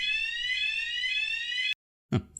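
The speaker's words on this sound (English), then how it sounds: "Fire alarm went off." A fire alarm blares with a continuous loud electronic tone for nearly two seconds, cuts off abruptly into silence, then a short burst of a voice follows.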